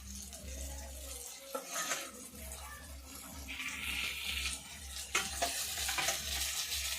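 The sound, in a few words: Bombay duck fish being fried in spice paste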